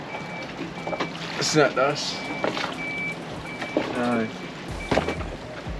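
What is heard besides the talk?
electronic beeping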